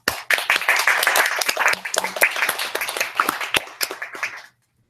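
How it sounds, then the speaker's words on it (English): Audience applause at a joint club meeting, a dense burst of many hands clapping that starts abruptly, holds steady for about four seconds, then tapers and stops. "So let's give them a big applause."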